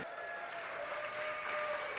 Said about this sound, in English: It does deserve applause. I love eventual applause.